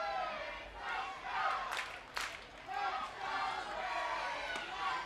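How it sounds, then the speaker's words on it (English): Baseball crowd in a ballpark between Bowling Green and Rome, cheering and shouting with a steady broad roar, swelling in a few waves with brief sharper peaks across the whole stretch. "Crowd really getting into that."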